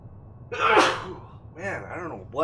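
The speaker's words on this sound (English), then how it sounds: "now suddenly I'm going nuts with the sneezing" A single sharp sneeze from a man bursts out after a brief intake of breath, followed by a few gasping, vocal breaths close to the microphone.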